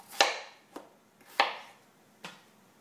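Knife chopping potatoes into big wedges on a cutting board: a few sharp, close thuds spaced about a second apart, each with a short ringing tail, and lighter taps between them.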